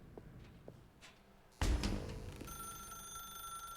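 A telephone rings in The Stanley Parable: Ultra Deluxe, a sudden loud burst followed by a sustained electronic ringing tone that continues steadily after a few faint taps in a quiet room.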